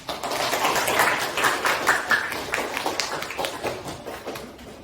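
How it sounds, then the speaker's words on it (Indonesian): Clapping from a group of students in a classroom lesson, a dense run of hand claps that swells quickly, holds steady for several seconds, then gradually thins out near the end. "Ya, sekali lagi tepuk tangan untuk kita semua."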